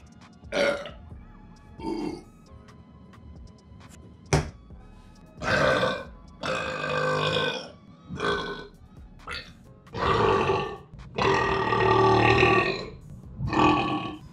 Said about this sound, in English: That was like a trademark burp.